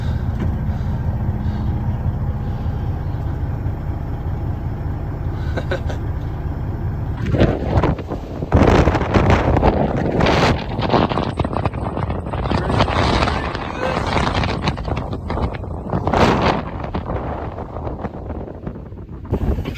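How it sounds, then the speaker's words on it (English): Breezy outdoor wind buffets and rumbles across the microphone, a steady low roar at first that turns into loud irregular gusts in the second half. "Still a little breezy."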